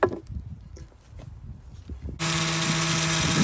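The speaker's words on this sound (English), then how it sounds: "let's get sanding" After some quiet clatter and handling, an electric sander starts up abruptly and runs loud and steady with a high whine, sanding a vintage cast iron garden bench.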